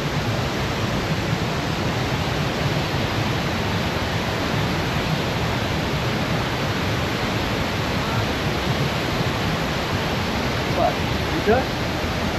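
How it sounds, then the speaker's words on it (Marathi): Steady, broadband rush of falling water from small waterfalls at Bhandardara fills the scene evenly from start to finish, close by. "असे छोटे छोटे वॉटरफॉल धबधबे बघायला भेटतात"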